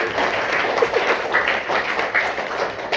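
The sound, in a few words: audience clapping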